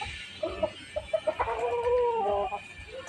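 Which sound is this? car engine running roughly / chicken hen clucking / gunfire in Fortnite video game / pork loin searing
chicken hen clucking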